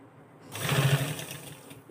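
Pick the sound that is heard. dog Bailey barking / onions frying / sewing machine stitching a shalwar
sewing machine stitching a shalwar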